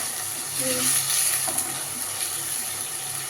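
Mushrooms frying in a pan for mushroom manchurian, a steady close sizzle running throughout with faint stirring and tonal kitchen background.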